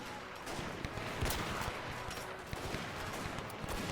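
Enemy rifle fire crackles in a continuous, dense fusillade in the video game Between Empires, with many overlapping distant shots forming a steady barrage.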